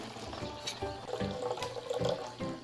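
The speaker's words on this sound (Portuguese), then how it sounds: "Passei um pouquinho mais uma vez na água as folhas para tirar o restinho" Castor bean leaves being rinsed in water, irregular splashing and sloshing with a few soft knocks, moderately quiet and continuous.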